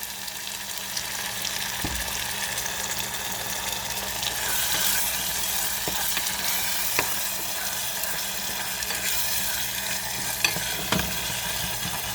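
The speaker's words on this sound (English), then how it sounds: "So you cook that, put in a little bit of tomato sauce." Red beans simmer with tomato sauce in a pot, giving a steady bubbling sizzle with a few soft clinks of stirring and no voices.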